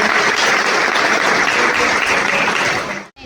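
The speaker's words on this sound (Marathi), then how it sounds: "आपल्या सगळ्या मुलांसाठी एकदा जोरदार टाळ्या" Loud, dense applause from an audience at a college-stage Ashadhi Ekadashi programme, a steady roar of clapping for children that fades out abruptly near the end.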